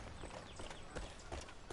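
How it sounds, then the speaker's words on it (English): Horse hooves clip-clop at a riding pace in the video game Far Cry 5, quick faint thuds in a steady rhythm. "Of course, you got the horse riding."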